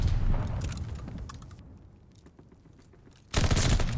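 Pistol gunshots in a competitive video game match: a few quick sharp shots under a busy, fading soundscape, then an abrupt loud burst of gunfire at the end.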